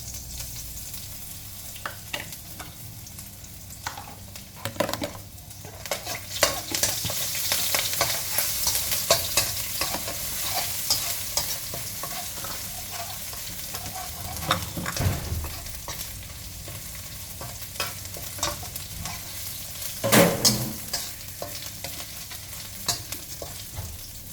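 A ground paste of pepper, garlic and coriander root stir-fried in hot oil in a wok gives a continuous close sizzle broken by repeated scraping strokes of the spatula, with no talking.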